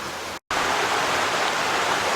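Small waterfalls and rapids along a rocky, rugged trail at Tucquan Glen Nature Preserve, a steady broadband rush of water, close and continuous apart from a brief dropout near the start.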